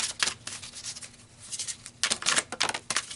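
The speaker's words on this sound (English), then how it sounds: "Shuffle a bit longer." Quick riffling bursts of tarot cards being shuffled, crisp fluttering flurries in a few close clusters separated by short pauses.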